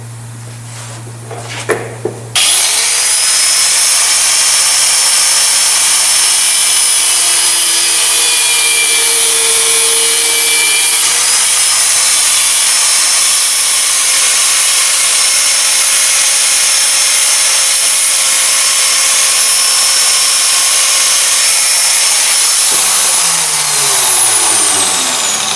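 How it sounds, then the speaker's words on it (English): A long bolt on a Ferguson TEA20 tractor being trimmed with a power cutter, a loud continuous high whine and grinding lasting over twenty seconds after a few brief knocks, then spinning down at the end. "I'll just trim off this bolt, the long one, to the same size as the other one"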